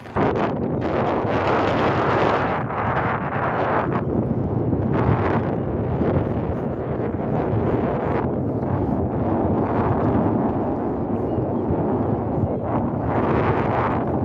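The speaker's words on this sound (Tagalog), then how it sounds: "lakas ng hangin" Strong wind roars steadily into the microphone at Blackpool Pleasure Beach, a loud, constant rush with gusting surges throughout and no talking.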